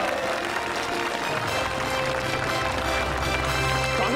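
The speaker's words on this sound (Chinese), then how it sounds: "掌声有请。" A crowd applauds a guest, the goodwill ambassador, at a city celebration, a dense continuous wash of clapping with a low rumble or music bed joining partway through.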